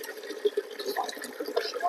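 Water scooped up from a rooftop pond, with soft splashing and trickling of water throughout, close by and moderately loud.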